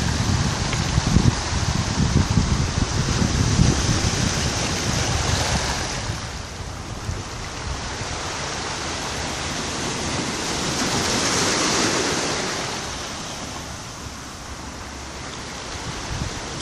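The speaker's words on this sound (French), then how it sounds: "Et les micro-ambiances avec les vagues qui viennent presque nous lécher" Ocean waves lapping at the shore at Possession on Réunion at dusk, with a steady, loud rushing wash that swells and recedes in slow surges, broken by close splashes and wind buffeting the microphone.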